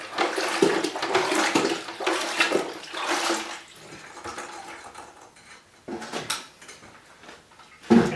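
Hot water runs hard from a tap for washing a milking container during morning chores, a loud broadband rush for about three seconds that drops to a lighter splashing trickle, then surges again briefly near the end with no talk.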